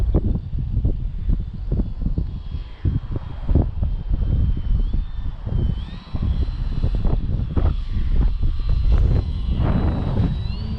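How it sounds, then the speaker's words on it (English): An electric RC plane, an Avios Grand Tundra Plus sport model of EPO foam with a 1700 mm wingspan, throttled back while descending; a soft motor whine with faint pitch shifts is heard at a distance under steady wind buffeting on the microphone. "Let's just throttle back, see how it descends."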